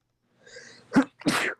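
Someone sneezes once, close and clear, in a hockey broadcast booth during an NHL game: a soft breathy inhale first, then a sharp burst and a second forceful expulsion.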